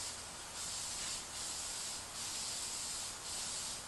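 Dye sprayed in a coat onto the bottom of a Bass Tracker boat gives a faint, steady hiss in bursts of about a second, with brief pauses between passes.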